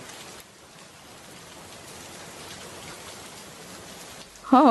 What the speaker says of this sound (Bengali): সারা বৃষ্টি নামার আর সময় পেল না, একদম ভিজে ডুবু হয়ে গেলাম